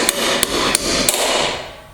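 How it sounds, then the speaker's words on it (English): A hammer taps a car control arm four times in quick succession, sharp metallic strikes close up with a short ringing decay after each blow. "So you got a hammer? Yeah. Get a little love tap."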